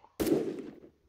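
A single sharp gunshot in the shooter game Phantom Forces, a sudden loud crack with a short decaying tail, heard alone and close.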